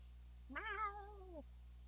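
A cat meows once inside a closet, a single drawn-out, clear and close call of about one second with no talk over it.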